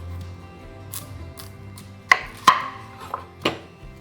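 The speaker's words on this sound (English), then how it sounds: "So we have a nice onion. Cut it in two." A knife slices an onion in two on a board, giving a few sharp, close chopping knocks spaced about a second apart over quiet kitchen room tone.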